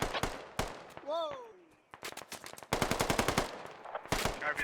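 Heavy machine gun fire in a video game: rapid bursts of loud automatic shots in close, dense volleys with short gaps, a rising whistle-like sound in between, and a voice speaking over the shooting.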